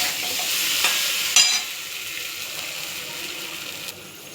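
Egg curry with boiled potato frying in a pan and stirred, a bright hiss of sizzling oil with a couple of scraping stirs, loud at first and then settling into a quieter steady fry.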